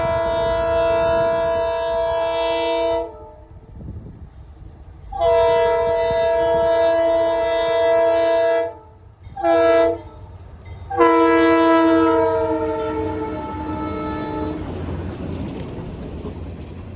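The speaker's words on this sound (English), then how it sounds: "Next we have a train on one of my favorite short lines" A West Tennessee Railroad short-line freight train sounds its horn in loud sustained blasts, several long and one short, with rumbling rail noise rising toward the end as the train passes close by.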